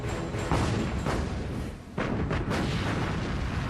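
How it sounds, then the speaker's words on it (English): The German battleship Bismarck and heavy cruiser Prinz Eugen rapid-fire their main and secondary naval guns, loud booming blasts rolling into one another in a dense, continuous barrage. "Bismarck and Prince Eugen rapid fire their main and secondary armament"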